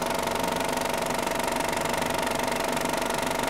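A 70mm film projector motor runs with a steady fast mechanical chatter and hum, close and continuous, with no voices.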